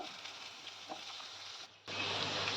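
Diced potatoes frying in hot oil, a soft steady sizzle that drops out briefly and then returns louder and fuller, close by.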